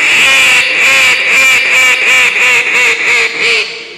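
A duck call blown loud and coarse, sounding a steady, rapid string of raspy quacks up close with no talking over it.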